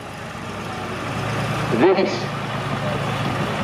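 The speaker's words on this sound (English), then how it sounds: "Perkins diesel engine in this is a Humber" A Perkins diesel engine in a Humber vehicle runs at a steady low idle, its rumble continuing under someone talking nearby.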